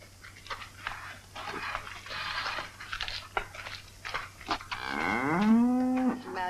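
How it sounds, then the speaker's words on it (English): A big cow lets out a loud, drawn-out moo near the end, preceded by background shuffling and crunching sounds. "look at this big cow"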